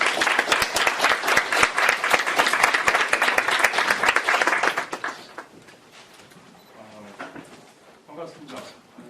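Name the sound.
audience applause after a speaker is introduced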